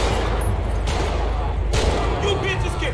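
Police open fire in GTA 5, with rapid overlapping gunshots in a dense, loud fusillade and speech mixed in.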